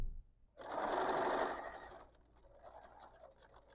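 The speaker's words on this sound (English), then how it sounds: "you're gonna sew to this, the start point, and beyond it a little bit" A sewing machine stitching a quarter-inch seam on a folded fabric coaster: a short, fast whirring burst of stitching, then quieter mechanical clicks as it slows.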